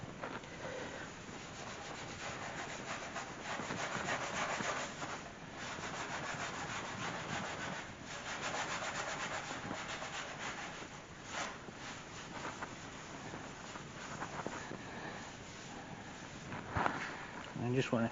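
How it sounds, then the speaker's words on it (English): A green scrub pad dipped in degreaser scours a stove top, a continuous close rubbing and scrubbing with slight rises and falls, with a person talking over it at times. "take the green scrubby part of it, dip it in there, get some on there, and then basically you're just going to start scrubbing"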